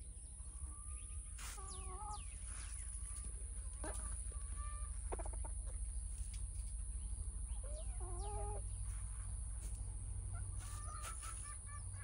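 Chickens cluck and call in a hot summer garden beside cucumber and bottle gourd vines, with several short clucking bursts scattered over steady outdoor background noise and no talking.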